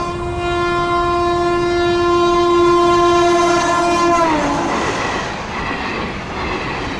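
An express train roars past through quiet open countryside, its loud sustained horn blaring for several seconds before breaking into a broad rushing rumble of carriages close by, with no voices.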